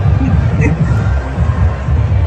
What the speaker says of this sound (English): today Trump was back in Butler, and this was the crowd, just so you can have an idea